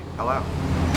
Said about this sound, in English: so that's the sound of the garbage trucks coming from the city.